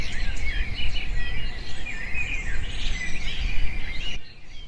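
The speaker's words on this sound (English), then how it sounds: "Woodpecker." Woodpecker calls ring out amid a dense outdoor chorus of high chirps and trills over a steady insect-like hiss, continuous and fairly loud before cutting off abruptly near the end.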